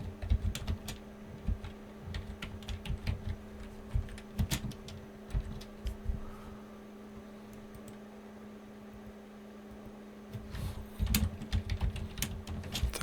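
Rapid, uneven keystrokes clatter on a computer keyboard, with close clicks arriving in short clusters and brief pauses over a low steady electrical hum.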